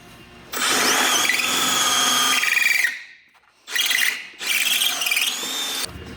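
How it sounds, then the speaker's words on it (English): A power drill with a 3/16 bit whines at high speed, drilling out a metal rivet on a snowmobile, stops briefly, then runs again in two more bursts. "Using a 3/16 drill bit, drill out the rivet that is behind the belt."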